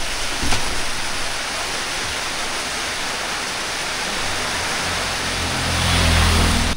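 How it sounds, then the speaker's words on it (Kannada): Steady heavy rain pouring down in Sri Lanka, a dense, even hiss that holds throughout with a faint low rumble beneath and a brief thump near the start. "ಇದ್ಯಾವ್ದು ಗುರು ಮಳೆ"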